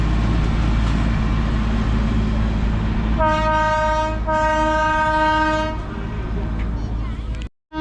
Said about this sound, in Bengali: এখানে স্টেশন আছে, দাঁড়াবে ট্রেন।